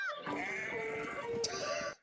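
Sheep bleat once in a single drawn-out, wavering call that lasts almost two seconds, close and clear, with no talking.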